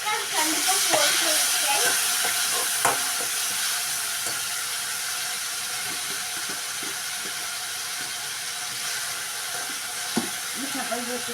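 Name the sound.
tomato sautéing in a pan with onion and curry leaves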